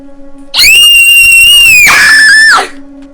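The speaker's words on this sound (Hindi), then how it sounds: "मीरा याद कर सकती थी वो चीखे," A piercing, sustained scream in a horror story, very loud and close, holding for about two seconds before breaking into a second wavering cry that cuts off into quiet.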